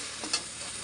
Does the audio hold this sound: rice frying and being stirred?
yes